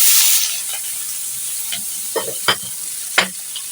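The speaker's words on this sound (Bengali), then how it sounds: "আর এখানে কই মাছ ভাজার তেলে দিয়ে দিচ্ছি পেঁয়াজ।" Onions sizzle as they drop into hot oil left from frying koi fish, with a strong hiss at first that settles into steady frying. A few sharp scrapes of stirring break through near the end.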